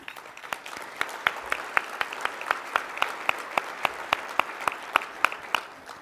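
Audience applause at a Bloomington State of the City address in 2019, with dense steady clapping and individual sharp claps standing out, sustained and fairly loud throughout with no talk over it.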